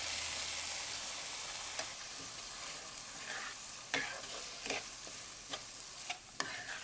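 Washed masoor lentils sizzle in frying spice paste, a soft steady crackle with several clear stirring scrapes and knocks of a spoon, close and without voices.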